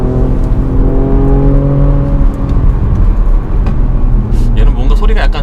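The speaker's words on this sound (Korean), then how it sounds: "얘는 뭔가 소리가 약간 좀 터보 같진 않고 네. 약간 좀 자연흡기 같은 소리도 비슷한 것 같은데." Porsche Macan GTS on a race circuit, the engine revving and whirring loudly from inside the car as it accelerates, pitch rising and falling, while people talk over it.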